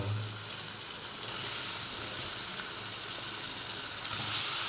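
Chicken pieces going into hot oil in a pan, a soft continuous sizzle and hiss with a slight swell at the end, fairly quiet and with no talking.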